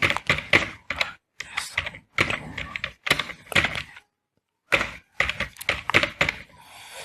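Bursts of rapid keystrokes on a computer keyboard while form data is entered, clustered clicking with short pauses and one longer gap, close and clear.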